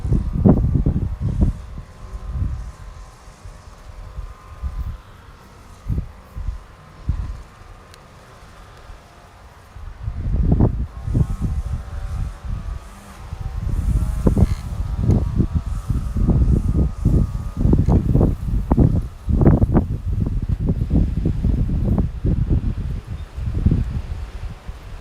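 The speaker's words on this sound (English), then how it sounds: "Wind's really getting up." Gusts of wind blow through a garden where chickens are kept, rustling leaves and buffeting the microphone in rumbling bursts that grow stronger and more constant in the second half.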